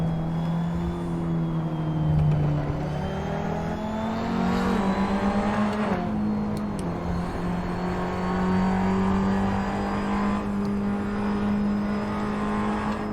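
A race car runs a demo lap around the Catalunya circuit, its engine note droning steadily and shifting pitch as it climbs and eases through gears and corners, heard continuously and fairly close with no talk.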